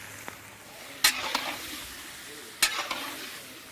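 Pork and chicken frying in oil in an old pot, a soft steady sizzle with two sharp clanks of stirring or meat hitting the pot, fairly quiet and close.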